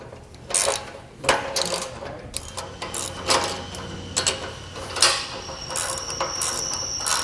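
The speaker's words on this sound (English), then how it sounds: "then we're going to tighten down these bolts on the hangers" Bolts on the spring hangers of a Malone EcoLight Sport trailer being tightened with a ratchet, giving steady mechanical clicking and ratcheting in bursts over a continuous background hum.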